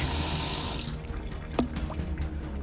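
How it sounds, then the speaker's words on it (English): Water streams steadily from a sink faucet, loud and close for the first second, then thins to a lighter trickle with a few drips and small clinks. "the water comes out of a sink"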